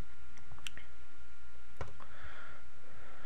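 A computer mouse clicking on a download link: a few sharp, close clicks spaced unevenly in an otherwise quiet room.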